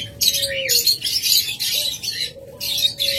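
A pair of lovebirds chirps with shrill, rapid bursts of high calls, close by and lively, with short gaps between the bursts.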